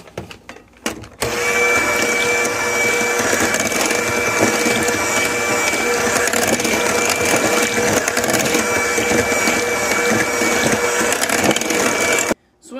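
Butter mixed into sweet potato pie filling with a mixer, a steady loud whirring churn running for about eleven seconds, starting and stopping abruptly, with brief clatter before it.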